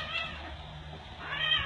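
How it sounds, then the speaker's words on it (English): Cat in a cat rescue shelter meowing in a drawn-out, close call that dips and then rises again, with quiet room noise behind it. "Pepper is the only blind cat in the room."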